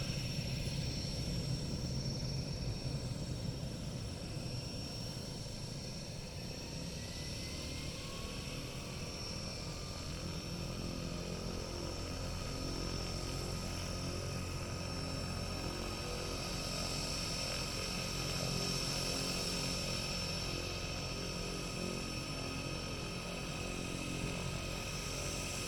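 A turbine aircraft engine on a 402 plane spools up, a steady roaring whine with faint rising tones, sustained throughout at moderate distance with no voices.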